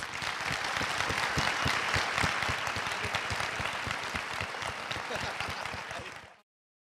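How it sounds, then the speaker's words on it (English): A conference audience at a tourism keynote breaks into a round of applause: many hands clapping in a full, even wash with individual claps standing out, holding steady before fading and cutting off abruptly. "But let's give them all a big round of applause."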